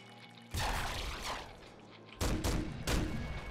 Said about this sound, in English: Holy shit, the Doom rifle is a lot better. It fires out three at once.